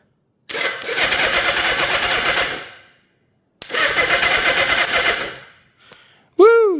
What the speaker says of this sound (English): But the engine turns over, so we know it's not seized.